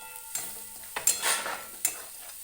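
Masala roasting in a pan is stirred with a spatula, giving soft sizzling and a few sharp scraping clinks against the metal, close and without voices.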